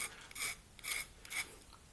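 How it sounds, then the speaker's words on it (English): A crossbow bolt rubbed back and forth on a flat table edge gives three bright rasping strokes, evenly spaced about half a second apart, close and alone with quiet gaps between. "Put on a flat surface, edge of a table, either just gently rub it back and forth."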